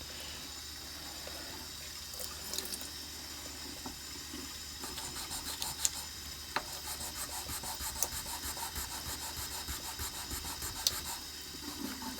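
A briar estate pipe is sanded by hand with sandpaper, a soft continuous rubbing hiss with rhythmic scratchy strokes repeating steadily, close and quiet, with no talking.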